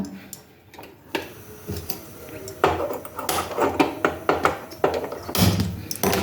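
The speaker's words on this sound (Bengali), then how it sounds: "এখন আমি কুকারটা গ্যাসে বসাবো।" A pressure cooker being set down on a gas stove, with a scatter of metallic clanks, taps and thunks close by in a home kitchen, several firm knocks clustered in the latter half.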